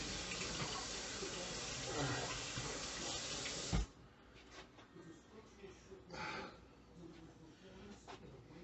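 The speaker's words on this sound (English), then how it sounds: "I'm going to rinse my hand off a bit here." A kitchen tap runs steadily as a hand is rinsed beneath it, then shuts off sharply, leaving quieter handling sounds and faint talking. Close and moderately loud.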